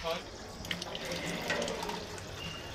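Water runs from a tap in a steady rushing splash, close and continuous, with a voice heard faintly under it.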